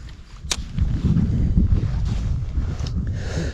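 Wind buffets a lakeshore bank facing straight into the wind at a zander fishing spot, giving a steady, loud low rumble across the microphone with a few brief higher gusts.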